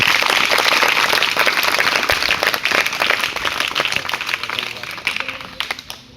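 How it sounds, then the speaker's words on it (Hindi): Loud, dense applause for teachers at a school gathering in Ramnagar, steady at first and then thinning into scattered claps as it dies down. "एक बार सभी शिक्षकों के लिए जोरदार तालियां।"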